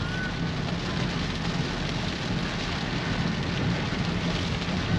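Heavy rain drumming steadily on an old Toyota Camry during a road drive in Indonesia, a dense, loud, continuous hiss with no pauses and no talk.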